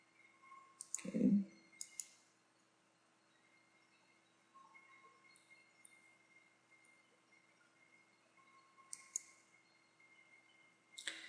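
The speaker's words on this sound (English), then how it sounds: "So if I click here" A computer mouse clicks close and crisp in a quiet room: one sharp click near the start with a soft thump, another shortly after, then a pair of light clicks near the end over a faint steady hum.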